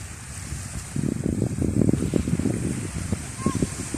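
Sea waves washing ashore at Ramitan Beach Resort in Picong, steady surf with a swell of louder wash in the middle and wind buffeting the microphone.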